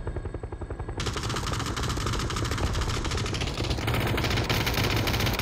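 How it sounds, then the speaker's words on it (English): An M249 machine gun in PUBG fires a long, rapid sustained burst, loud and dense, after a brief stretch of faster rhythmic engine-like pulsing. "And that is an M249, right? Yep, that's an M249."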